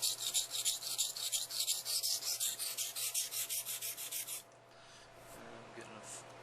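An M390 steel knife blade drawn over a Nubatama whetstone in quick, even rasping strokes, about a dozen close scrapes before the rubbing stops and only faint room noise remains.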